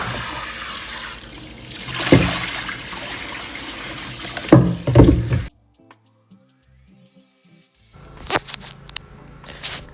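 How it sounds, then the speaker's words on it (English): Tap water runs into a pot as millet is washed for a Nigerian kunun zaki drink, a loud rushing and splashing stream that stops midway, leaving near silence before the water gushes again. "just run the water on it and then you wash as much as possible"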